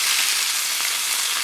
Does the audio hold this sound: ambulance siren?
no